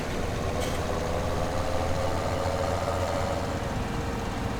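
A vehicle engine running steadily in Farming Simulator 17, a low droning hum with a constant pitch, moderately loud and unbroken across the clip, with no talk heard.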